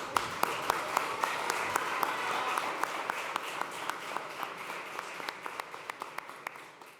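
An audience at a 15th-anniversary celebration applauds an award recipient with faint, sparse hand claps in a fairly even rhythm, heard at a distance over a low background murmur.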